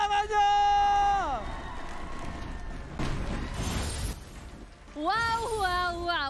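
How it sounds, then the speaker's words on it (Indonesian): Esports arena crowd at an MPL Indonesia Mobile Legends match cheering and applauding in a loud, swelling wash beneath harmonic stage music and an announcer's voice, with a brief lull before the music returns. "So MPL Arena mana tepuk tangannya?"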